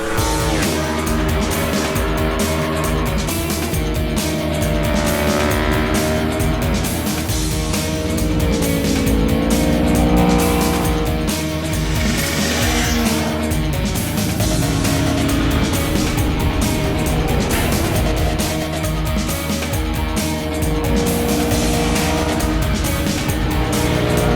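Several hypernaked sport motorcycles, among them an Aprilia, KTM Super Duke, supercharged Kawasaki, MV Agusta and Ducati Streetfighter S, ride on a race track with a continuous loud engine drone and rising and falling revs for the whole stretch.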